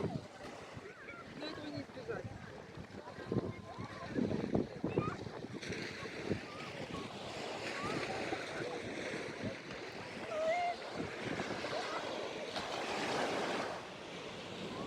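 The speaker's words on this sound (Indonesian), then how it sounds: "Nah ini pantainya bagus banget. Ombaknya juga nggak terlalu besar." Gentle ocean waves wash ashore at a beach in Phuket, a soft rolling surf rising and falling under gusts of wind buffeting the microphone.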